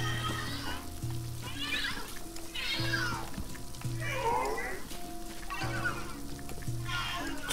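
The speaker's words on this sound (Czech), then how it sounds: "Obrovská kočka." A giant cat in the Luigi's Mansion 3 video game gives repeated meows and yowls, rising and falling, over a crackling, sizzling game background with steady low tones.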